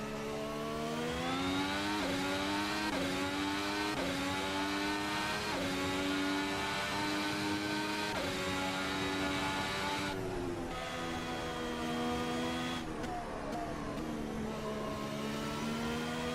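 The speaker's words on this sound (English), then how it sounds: "It's a fast car." Fast race car in a driving simulator game revving hard and accelerating, a loud steady engine whine rising and falling in pitch through gear changes, close and continuous with no talk.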